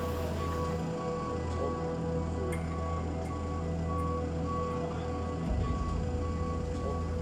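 A truck carrying a large tunnel ventilation fan reverses between skyscrapers on a London construction site, its beeper pulsing in a steady, regular rhythm over a loud low diesel rumble that surges near the end.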